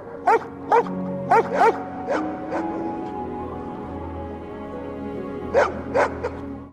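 A husky barks in sharp bursts, four quick barks then two more, a pause under a droning background, then another cluster of three or four barks, near and clear.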